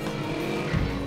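A fast car pulling away in the Watch Dogs video game, its engine roaring steadily with a brief swell of tire noise near the end, loud and close with no talking.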